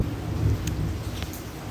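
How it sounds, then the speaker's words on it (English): Steady rain falling in the background, a dense low rumbling wash with faint scattered patter, constant and moderately loud throughout. "sorry, it is raining here."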